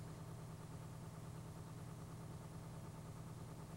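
A ten-wheel dump truck's engine idles steadily while warming up, producing a constant low rumble with a faint hum, quiet and unchanging throughout.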